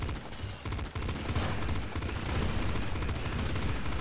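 Rapid explosive gunfire from a boss in the top-down shooter Nuclear Throne, a dense continuous barrage of bursts and blasts over busy game sound, steady and moderately loud throughout.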